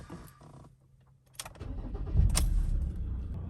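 A truck engine cranks briefly and catches, rising into a steady idle after a short key rattle, close and fairly loud, with no voices.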